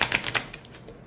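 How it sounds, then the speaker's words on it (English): A deck of gilded-edge cards being shuffled, producing a rapid run of crisp riffling clicks up close that fades quickly into quiet. "If I shuffle it this way"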